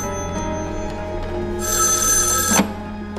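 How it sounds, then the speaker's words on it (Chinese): A telephone rings in an indoor room in a Shanghai spy drama, a single clear ring of about a second rising over a steady low background hum, with no talk. "我先接个电话。"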